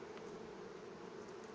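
Honey bees buzz at a hive during colony work to unite and requeen colonies, a steady close drone holding evenly throughout with no talking.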